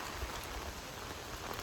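Hard rain falls steadily in strong winds, a dense even hiss that is close and unbroken throughout, with no voices.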